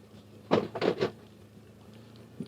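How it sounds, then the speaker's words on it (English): Three quick hard bangs in close succession, a rock striking a metal skid plate underneath an off-road vehicle in Walnut Canyon, Arizona, followed by quieter engine rumble. "Another bang on the skid plate."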